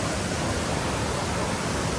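Broad, steady rush of falling water at Cwmorthin waterfall in Wales, continuous and fairly loud throughout with no voices over it.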